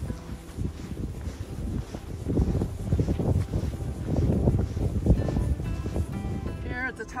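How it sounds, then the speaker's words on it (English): Wind gusts across a cold mountain trail on the Appalachian Trail, a steady low rushing buffet against the microphone that swells and fades throughout, with faint rustling of young leaves. "Blowing around on this cold, windy day"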